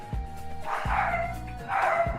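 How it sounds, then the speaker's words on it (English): Several dog barks and yips come in bursts, with a steady hum underneath and some faint background talk. "Apologies in advance if you've been hearing dogs every now and then."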